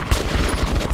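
Rapid gunfire bursts from Metro 2033 Redux, a dense fusillade of repeated shots rattling loudly and close with no break across the short span.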